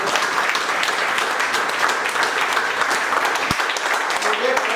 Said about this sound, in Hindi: उनके लिए ज़बरदस्त ताली हो जाए।